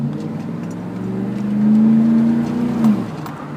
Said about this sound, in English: Alright, this is leaving from a stoplight.